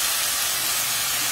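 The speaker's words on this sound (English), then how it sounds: "Listen to the sizzling sounds of boneless pork chops being" Steady broadband hiss and crackle of boneless pork chops sizzling in a hot pan on a bed of fresh thyme, continuous and close, with no talking.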